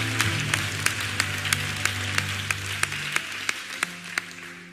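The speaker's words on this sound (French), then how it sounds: "Si tu veux acclamer, acclame, acclame, acclame comme il faut" A church congregation claps in a steady rhythmic beat, about a dozen even claps, under sustained organ or keyboard tones.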